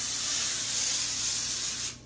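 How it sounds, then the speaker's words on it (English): A steady, close hiss of baking spray sprayed onto a foil-lined pan, lasting about two seconds, then cutting off abruptly. "First thing you need to do, baking spray."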